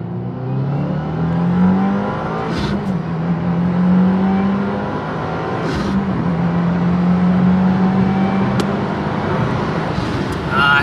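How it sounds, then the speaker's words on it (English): A stock 2022 Subaru WRX tuned to about 400 horsepower pulls hard through second gear, its engine note climbing steadily and loud from close by with a few sharp transients, no talk over it. "I'm going to do a second gear pull and I'm just going to send it till we probably hit like 120."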